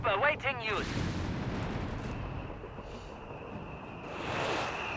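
Artillery fire in the strategy game Company of Heroes 3: booming blasts followed by a long rumbling roar, with someone commentating over the start.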